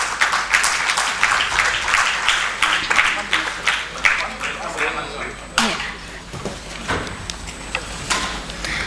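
Audience applause for award winners at a CSR leadership event, a patter of clapping hands that thins out partway through while a voice speaks over it.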